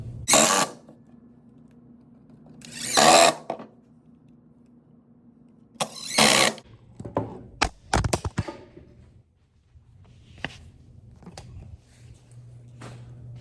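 A power drill drives 1 1/4-inch screws through half-inch OSB in three loud bursts of whirring spaced a few seconds apart, followed by a cluster of short clicks and taps and a low steady hum.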